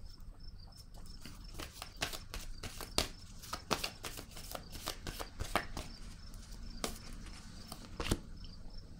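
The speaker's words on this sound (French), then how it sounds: "Je vais déposer une autre carte." Tarot cards are set down one after another on a table, giving a steady run of soft, close slapping and sliding taps with a few sharper flicks. There is no talking.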